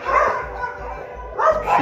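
Dogs at a Brazilian Amazon waterfront with restaurants and kiosks bark and scuffle in a fight, with snarling, yelping bursts over a steady low engine-like hum and a surge of noise near the end.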